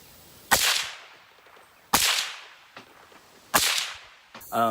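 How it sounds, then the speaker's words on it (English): Three sharp, loud supersonic cracks from a suppressed rifle with a CMMG Zeroed 30 suppressor at roughly even intervals, each trailing off in a brief echoing decay, followed by a metallic clatter at the end. "if it's supersonic, it's going to break the sound barrier, and you're going to get the supersonic crack"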